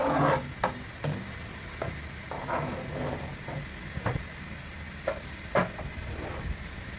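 Pancit canton with chicken cubes being stirred in a frying pan: a continuous sizzle with repeated sharp scrapes and clacks of a utensil against the pan at an irregular rhythm, close by.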